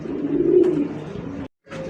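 Pigeons, including fancy breeds such as full JD spring and red indigo, cooing in a cage at a pigeon farm, a steady low continuous cooing that breaks off briefly near the end and resumes.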